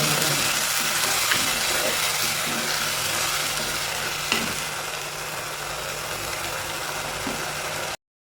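Chopped onions, tomatoes and green chillies sauté in a pan for a Kerala pearl spot fish curry, a steady close sizzle that holds evenly throughout before stopping abruptly at the end.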